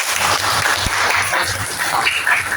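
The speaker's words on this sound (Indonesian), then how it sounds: "Tepuk tangan buat kalian." A class of teachers or students in an Indonesian classroom session claps together, steady moderately loud applause filling the whole stretch with a low hum beneath.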